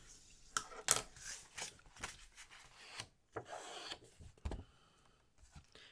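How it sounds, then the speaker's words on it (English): Paper rubbing and scraping as a fold is creased in a recycled Christmas card: a quiet series of short, uneven strokes, close by. "I'm going to take this fold and crease it"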